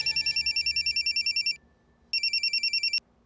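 A telephone ringtone rings close and loud in an indoor home scene: two bursts of rapid electronic trilling, each about a second and a half, separated by a short pause.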